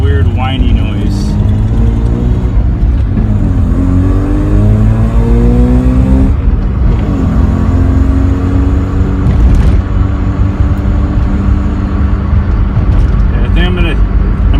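A Mazda RX-7 drives under load with a weird whining engine note rising and falling through the gears, loud and close from inside the car, with a voice heard over it.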